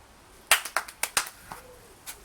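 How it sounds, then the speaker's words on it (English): Someone claps rapidly by hand while tossing a ball up and catching it, about seven crisp, close claps in quick succession followed by a softer thump at the catch, with no talk. "I'm going to throw the ball up and clap and then catch."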